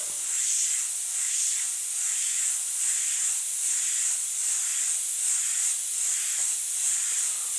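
An airbrush sprays paint with a continuous soft hiss that pulses gently as the trigger is worked, steady and close throughout with no talking.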